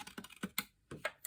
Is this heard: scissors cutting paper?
yes